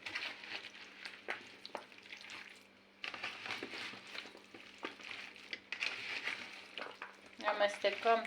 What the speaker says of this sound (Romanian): Amestecăm toate foarte bine.